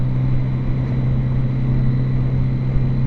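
A Triumph Street Triple 675 motorcycle is ridden at high revs, a loud steady droning engine note with strong low hum and wind rush, continuous for about three seconds.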